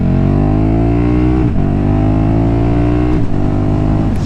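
A KTM 1290 Super Duke R motorcycle engine revs loud and close, a steady rising drone with brief dips as the throttle blips, running alone with no voices.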